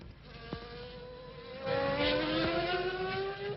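Alain Prost's Formula 1 car in a 1993 practice session gives off a high, buzzing engine whine whose pitch sweeps upward as it accelerates, growing louder midway, heard through thin, band-limited broadcast sound.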